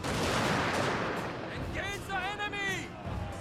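Infantry rifle volley in a Total War Shogun 2: Fall of the Samurai battle: a dense, crackling burst of massed gunfire and battle din, followed by shouting voices as the noise thins.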